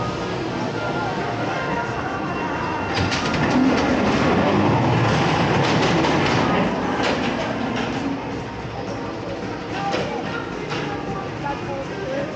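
Ghost Train dark ride cars at Blackpool Pleasure Beach rumbling and clattering along the track, a steady loud mechanical roll with some clicks, with people talking over it.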